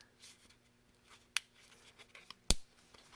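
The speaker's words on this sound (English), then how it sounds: "you just want to bend it until you hear it crack." Frozen thick embossing powder on pliable paper cracking as it is bent, producing two faint, sharp snaps about a second apart amid soft rustling, close and quiet.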